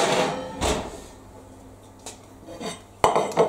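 An oven dish comes out of the oven: metallic clatters of the dish and rack scraping and knocking, spaced with quieter pauses, close by, with a brisk cluster of clanks at the end.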